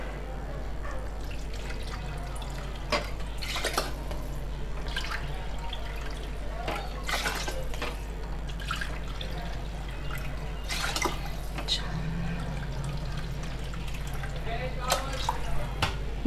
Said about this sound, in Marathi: त्याच वाटीने आपल्याला इथं 5 वाटी पाणी टाकायचं आहे, कारण की ह्या खिचडीला पाण्याचं प्रमाण जास्त असतं.